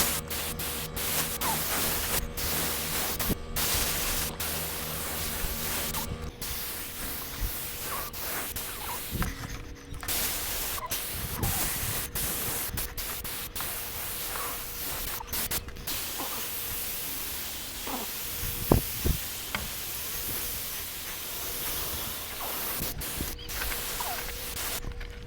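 A cup gun spraying lacquer coats onto a wooden kitchen island drawer outdoors on a fine day, a continuous airy hiss broken by repeated short interruptions and clicks across the whole stretch, with no voices.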